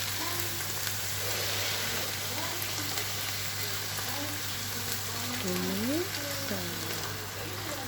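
Ground pork giniling sizzles in a pan after sauce is poured in, giving a continuous hissing fry with faint bubbling and occasional soft scraping; a faint voice comes through underneath.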